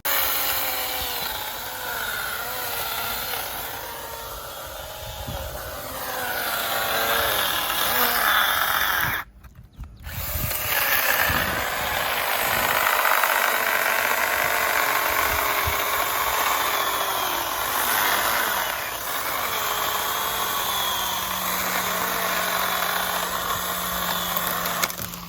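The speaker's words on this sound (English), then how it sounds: "you wouldn't believe that one little hand tool cut all those limbs" A Stihl GTA 26 battery pruning saw whines and buzzes through tree limbs close by, revving in uneven bursts with one short pause partway through, over outdoor background noise.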